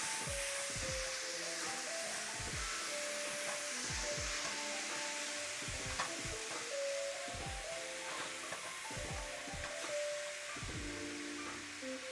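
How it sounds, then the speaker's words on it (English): Ground beef sizzles steadily in a pan over turned-down heat for burgers, a continuous bright hiss with crackle, while a voice talks intermittently over it. "I'm gonna spread this meat out and let it cook for a bit."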